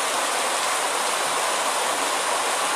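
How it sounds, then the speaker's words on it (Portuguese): Steady rain falling on the town of Macaúbas in southwestern Bahia, a dense, even hiss that holds unbroken throughout with no voices. "já são mais de 10 horas de chuva na cidade de Macaúbas"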